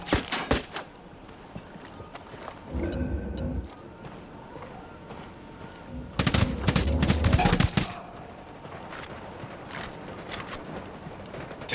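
Turret machine gun fire in the tactical shooter Ghost Recon Wildlands, heard as two loud sustained bursts of rapid automatic fire separated by quieter battlefield ambience and scattered shots.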